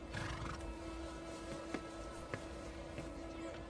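Battle-hardened warhorse whinnying faintly amid a steady background drone, with a few sharp thuds scattered through.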